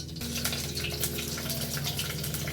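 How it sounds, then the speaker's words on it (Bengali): Loud, steady hissing sizzle of eggs frying in hot oil, close up with a low hum beneath, ending abruptly. "তেল গরম হয়ে গেছে, এখন আমি ডিমগুলো ছেড়ে দিচ্ছি।"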